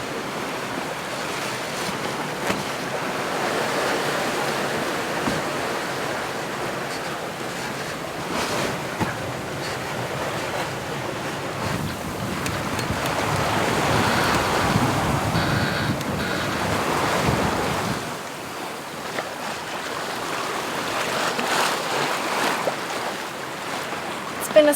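Ocean swell and waves wash steadily around a sailboat on a bright moonlit night at sea, a continuous broadband rush with wind buffeting the microphone and occasional louder surges.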